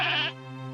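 A cartoon goat bleats once, a short bright nasal bleat that cuts off quickly and leaves a low steady hum, heard alone.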